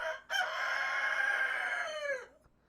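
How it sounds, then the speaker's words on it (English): A single rooster crows indoors: one loud, drawn-out cock-a-doodle-doo lasting about two seconds, close to the microphone, starting abruptly and trailing off at the end, with no other sounds around it. "stupid rooster in here that's about to crow."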